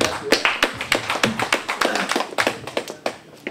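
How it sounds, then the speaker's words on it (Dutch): Applause from a small audience at a local news meeting in Zuidoost, a burst of sharp, uneven hand claps close by that carries on steadily and thins out slightly toward the end. "Applaus voor Jacob Wedermeijer."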